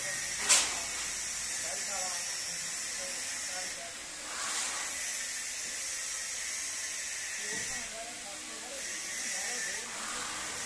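Compressed air hisses through the carburettor jet of a Sraja 170F power tiller in a sustained, close blast that shifts in strength, with a brief knock near the start and someone talking under it.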